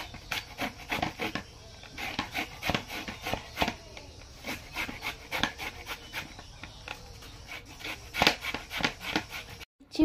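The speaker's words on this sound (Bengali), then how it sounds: "দেখতেই পাচ্ছ আমটা ঘষে নিচ্ছি" A green mango is scraped against a shell in repeated rasping strokes, a close, steady rubbing rhythm with brief scratchy bursts and no talking.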